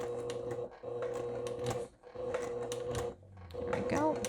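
A sewing machine runs in steady mechanical bursts, with brief pauses, as it stitches a thick section of a crossbody wristlet. A voice talks over the whirring throughout.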